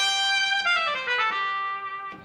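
A Yamaha PSR-X650 keyboard set to its trumpet voice plays a bright, brassy melodic phrase with sustained notes drifting downward, close and clear with no talk.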